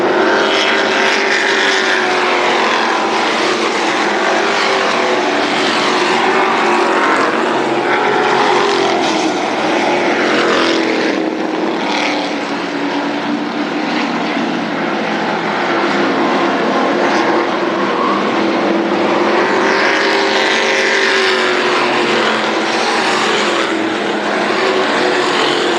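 Super sprint race cars roar around Berlin Raceway late in a 1999 race, a loud, continuous engine drone with rising and falling pitch as cars pass, no talk over it.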